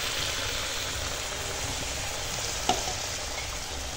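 Mutton head curry sizzling steadily in a pot over a wood-fired clay oven as whisked sour yogurt is stirred in, with a brief scrape near the end and no talk.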